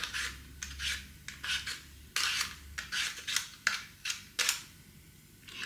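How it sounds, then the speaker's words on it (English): A Joseph & Joseph peeler scraping potatoes in a home kitchen, a series of short rasping strokes in an irregular rhythm, close and fairly quiet with brief pauses between passes. "So I've got my favourite Joseph & Joseph peeler out, and then I can get peeling them."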